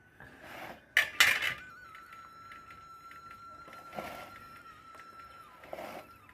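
Papaya pulao is mixed in a cooking pot, with a few sharp metallic scrapes and clinks of a ladle against the pot near the start, then quieter, intermittent stirring over a faint background tone.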